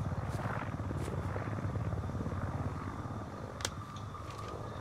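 A helicopter in a video game drones with a steady, close rotor thrum throughout, with one brief sharp click near the end and no talking.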